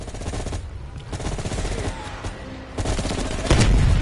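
M16 rifle gunfire in the Call of Duty Cold War campaign rattles in rapid bursts, loud and close, over a busy battle soundscape, with a heavier boom near the end.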